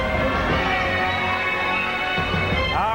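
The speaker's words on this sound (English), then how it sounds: "that's the sound of the Terminator" A Terminator sound effect from the Greed game show plays loud and continuous over dense, music-like tones, with a rising sweep near the end and no talking.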